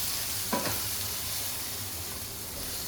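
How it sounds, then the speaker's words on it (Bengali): Roast spice with coriander and cumin powder is stirred into sizzling onions in a pan, a soft continuous fry with a single spatula scrape early on. "এটা দিয়ে খুব ভালো করে মিশিয়ে নিব।"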